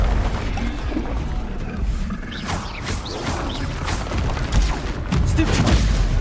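Explosive spell blasts from the Hogwarts Legacy video game burst amid rapid combat effects, several sharp booms and crashes over a continuous layer of battle noise.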